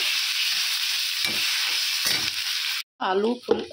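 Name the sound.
frying potato and aubergine with ginger garlic paste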